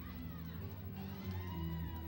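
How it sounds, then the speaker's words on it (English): Big crowd lining the streets of McMinnville for a 2013 Santa parade, a steady murmur of many voices and movement, with scattered cheers and a louder voice talking nearby over it. "we have a big crowd lining the streets"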